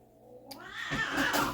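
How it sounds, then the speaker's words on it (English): Cats fighting indoors, a rising yowl that swells into loud, harsh caterwauling and scuffling near the microphone, with no talk over it. "My cats are fighting in the background."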